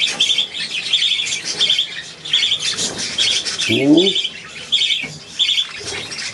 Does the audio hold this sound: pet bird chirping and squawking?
yes